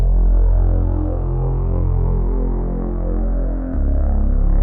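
A dark drone bass patch on the Vital synthesizer, a thick sustained low buzzing tone with slow throbbing movement, loud and alone, shifting pitch once near the end.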